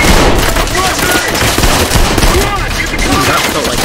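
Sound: gunfire from a first-person shooter video game (Trepang2)

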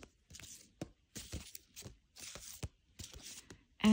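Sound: shuffling an oracle card deck

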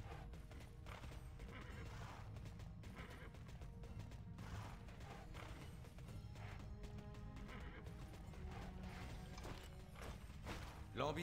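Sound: horse riding and neighing in video game TERA

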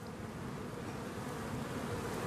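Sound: honey bees buzzing at opened beehives

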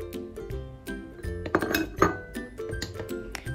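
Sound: stirring dough with spoon in bowl

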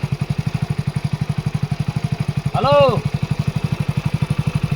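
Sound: motorcycle engine running

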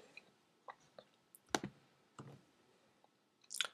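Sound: mouse click on the Create App button

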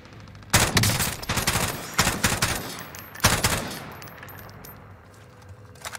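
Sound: AK47 gunfire in a video game

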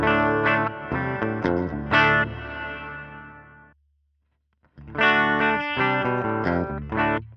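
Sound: electric guitar through Line 6 Helix Clarity amp model

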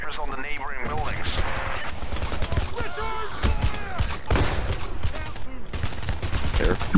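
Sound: gunfire in the video game Payday

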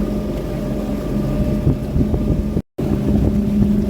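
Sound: tourist boat ride on a lake

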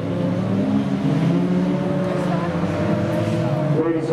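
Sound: jalopy race cars on dirt track

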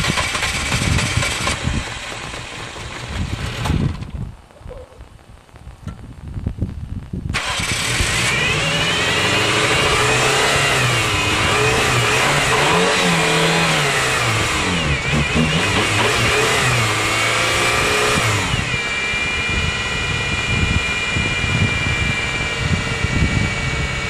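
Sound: Suzuki Swift engine running and revving

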